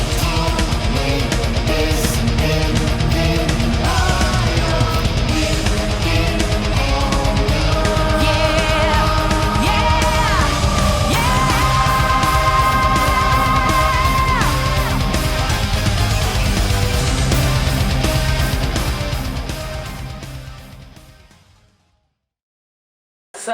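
A full virtual choir from East West Symphonic Choirs sings phoneticized song lyrics over a dense orchestral backing, sustained and loud throughout before fading out near the end.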